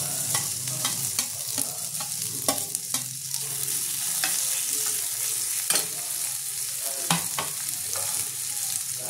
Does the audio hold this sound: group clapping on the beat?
no